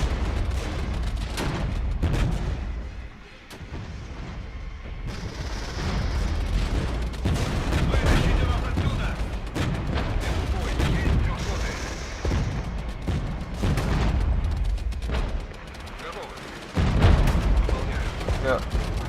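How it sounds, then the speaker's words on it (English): Heavy artillery barrage in the war game Iron Tide, a dense, continuous roll of booming blasts and rattling gunfire layered over one another, loud and sustained with heavier surges near the end. "heavy artillery barrage here"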